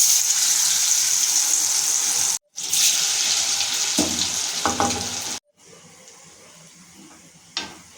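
Battered semolina-and-potato snacks dropped into hot oil, loud bubbling sizzle that cuts out twice and returns quieter, with a few sharp clinks of utensils; nobody speaks.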